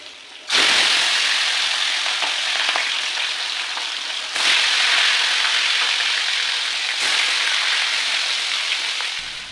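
Fish fries in a pan of oil with a loud, continuous sizzle and crackle, the hiss swelling in fresh bursts a few times as pieces shift, with no talking.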